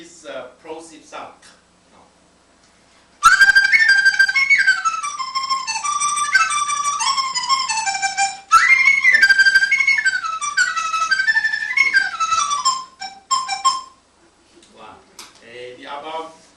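Someone speaks briefly before a flute at a 1996 Taiwan flute festival workshop plays a lively passage of sliding tones punctuated by sharp plosive attacks, bright and close for about ten seconds, with speech resuming after.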